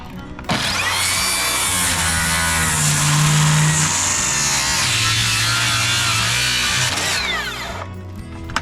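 A Bosch 18V rear-handle cordless circular saw set to a 45-degree bevel cuts through a wooden board, a loud, close, high-pitched whining buzz that holds steady for about seven seconds before spinning down.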